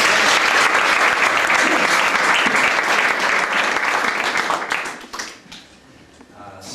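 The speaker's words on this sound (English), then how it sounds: "let's give the Lord a big clap." A church audience at a 1997 fundraising gathering gives a big round of applause, dense steady clapping that fills the room before fading out near the end.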